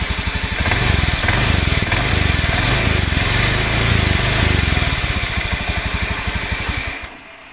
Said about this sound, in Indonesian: itu ketika diputar suaranya kerengseng atau kemrongsong gitu, merayak